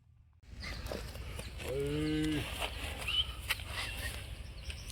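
A single low, drawn-out call from a Hallikar bull rises over an outdoor background of rustling and faint distant noises.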